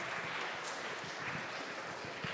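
Audience applause for a presenter at a team presentation event, a steady wash of many hands clapping fairly softly and evenly throughout, with no voices over it.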